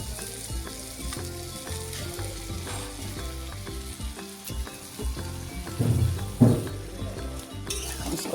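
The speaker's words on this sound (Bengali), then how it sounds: "সাথে সোয়াবিনটা ভালো করে ভেজে নেবো" Soybeans sizzle steadily in a hot pan with chopped garlic, a constant frying crackle with occasional stirring and soft clinks of a utensil.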